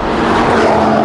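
Audi RS3 Stage 2 of about 500 hp with a Milltek exhaust, loud and close, a brief dense burst of engine and exhaust roar with no talking.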